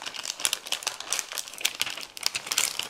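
Paper sewing pattern for a knit garment being folded and creased, a close, steady run of crisp crinkling and rustling with sharper snaps throughout.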